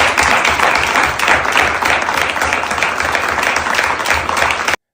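A crowd applauds in a steady, dense wash of clapping that holds at a constant loudness for nearly five seconds before stopping abruptly.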